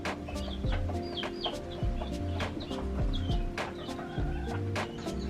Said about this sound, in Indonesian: Ayam ini berasal dari Turki, di sana banyak yang seperti ini.